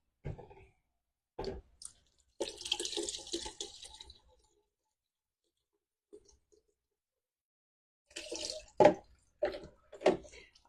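Tap water running in short bursts while marbled cotton fabric is rinsed after marbling, splashing and dripping nearby in two separate spells with a quiet gap between them.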